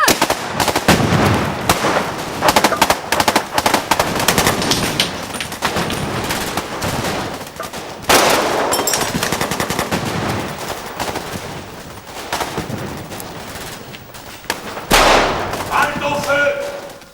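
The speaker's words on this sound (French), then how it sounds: "Ouvrez le feu!" Rapid bursts of rifle and machine-gun fire from soldiers on a training exercise, loud and close, with sustained volleys broken by brief pauses and shouting voices mixed in.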